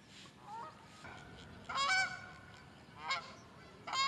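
Geese honk a few times in short bursts, fairly distant, over a quiet outdoor background at a bank fishing spot.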